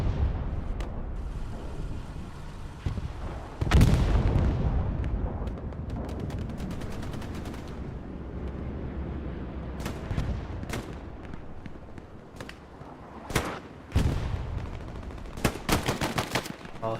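FG-42 sniper rifle shots ring out in the WWII shooter Hell Let Loose during a competitive match, with sharp cracks and bursts, some loud and close, others fainter, over a constant battlefield rumble.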